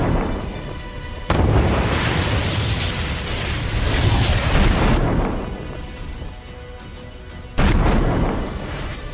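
Heavy booms from FAB-500 glide bombs dropped in Russian air strikes on Ukrainian army positions near Kolodeznoye, eastern Ukraine: a sharp blast followed by long rumbling roar and a second loud blast near the end, no talk.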